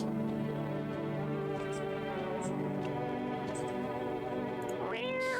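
A cat meows repeatedly, its drawn-out, wavering cries filling the whole stretch loudly and up close, ending on a rising yowl.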